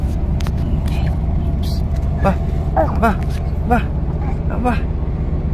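Riding inside an air-conditioned bus: a steady low engine and cabin rumble fills the background while a child babbles and adults talk over it.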